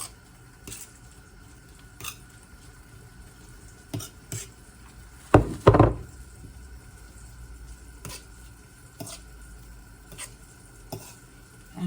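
Black bean smash is worked into greens on a cutting board, giving soft squishy stirring and scraping with occasional light taps and one louder clatter midway, close and quiet throughout with no voices.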